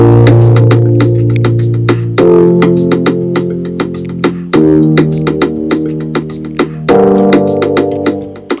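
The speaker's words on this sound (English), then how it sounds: "I played the grand piano and" A grand piano run through a filter plays sustained chords with a steady pulsing rhythm, loud and full, with changes every couple of seconds and no talking.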